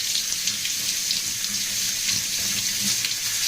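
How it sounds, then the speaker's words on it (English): Rice being rinsed under a running kitchen tap in a pot, a steady close hiss of flowing water splashing over the grains throughout, with faint low clatter beneath and no talk. "Step 1, we rinse the rice. Rinse your rice."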